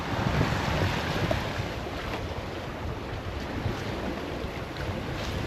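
Steady wind rushes past a sailing boat at sea, with water washing along the hull in a 12-knot breeze as the boat makes about 7 knots near Saintes-Maries-de-la-Mer; the sound is loud, close and unbroken, with no voices.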